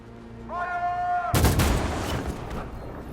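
Gunfire from the video game Detroit: Become Human cracks in suddenly after a held musical tone, a loud burst of shots and impacts that continues densely over a rumbling game soundtrack.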